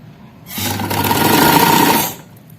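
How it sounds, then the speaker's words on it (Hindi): A sewing machine runs a short seam along the shoulder of an A-line frock, a loud, steady motorized whir that starts abruptly, holds about a second and a half, then stops, close and alone. "इस तरह से सिलाई करते जाएंगे"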